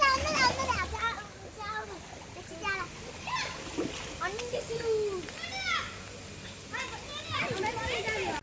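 Children swimming and jumping into water at an outdoor bathing spot, splashes mixed with lively shouting and chatter from many kids, fairly near and continuous.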